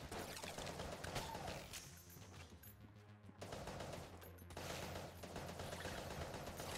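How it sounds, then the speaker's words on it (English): Automatic rifle gunfire in the Enter the Gungeon video game, a dense, sustained fusillade of rapid shots that dips briefly mid-clip before resuming loud and continuous. "Finally got like an automatic rifle."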